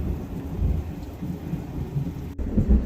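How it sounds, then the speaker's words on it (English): Steady summer rain with deep rolling thunder rumbles continuously close by. One sharp crack cuts in near the end. No voices are heard. "Summer rains, you can never predict them."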